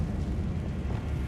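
A deep, rumbling fiery blast from the Confringo spell in Hogwarts Legacy, a short, loud, low roar lasting about a second.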